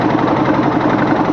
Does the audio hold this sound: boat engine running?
yes